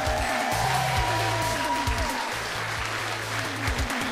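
A crowd at a battle of the bands contest applauding loudly, dense sustained clapping throughout, with a low musical hum underneath.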